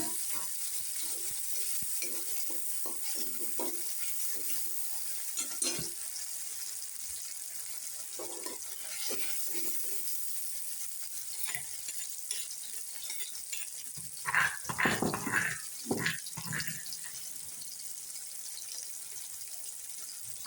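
Tomatoes land in a pan of lightly browned onions for a dhaba-style dal palak, giving a soft continuous sizzle with scattered clinks and scraping stirs that cluster into louder bursts toward the end.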